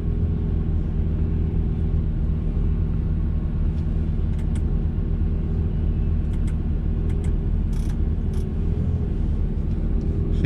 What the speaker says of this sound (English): I like to hear the car when I'm driving